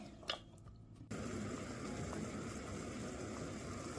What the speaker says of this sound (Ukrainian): І з моменту кипіння варимо капусту 3-4 хвилини.